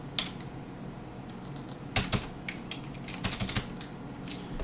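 Quiet, sporadic typing on a computer keyboard while entering Linux terminal commands, with scattered single key clicks and short bursts of several keystrokes, alone and without speech.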